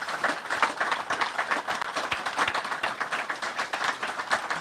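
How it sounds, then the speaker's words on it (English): An audience at a legislative district candidate forum gives a round of applause, a steady wash of many hands clapping at moderate distance for several seconds. "let's give our candidates all a round of applause"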